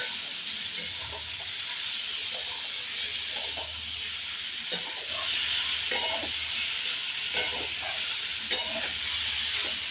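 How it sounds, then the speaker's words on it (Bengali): Paneer cubes are stirred gently as they fry in a pan for a potato and paneer curry, with a steady soft sizzle and periodic muffled scrapes and taps from the spoon. "তখন দিয়ে দেবো পনিরগুলো। কাঁচা পনিরে ইউজ করতাম, এবারে দেখবে খুব টেস্ট হবে। হালকা হাতে নাড়তে হবে।"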